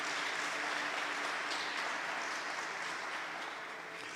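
An audience applauding during a lecture, a dense, steady wash of clapping from many hands that holds for several seconds and fades slightly at the end.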